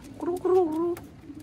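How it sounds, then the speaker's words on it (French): A pigeon in Malaga gives a short, soft, throaty coo, close by, with a faint rustle around it. "Plein de petits pigeons."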